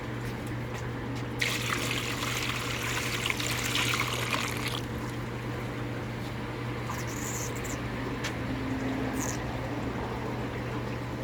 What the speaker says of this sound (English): my wife is holding the siphon tube for me while I'm adding water over here